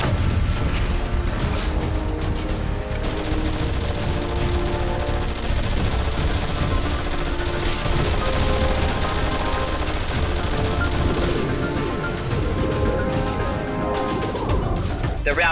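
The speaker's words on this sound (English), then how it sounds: "To inflict more damage, keep your squad firing." Squad gunfire from the video game Anomaly 2 rattles in dense, continuous volleys mixed with mechanical clanks and crashes. The bursts are loud and layered, and a narrating voice runs underneath.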